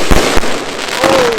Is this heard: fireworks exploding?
yes